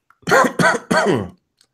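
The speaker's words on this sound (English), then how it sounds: "I make the cough noise" Three loud, harsh coughs in quick succession, close up, followed by silence.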